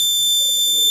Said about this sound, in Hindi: जिससे बजर अलार्म करेगा।